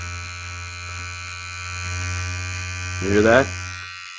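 A steady electric body hair trimmer buzz hums throughout, with a brief voice speaking over it near the end as the buzz wavers.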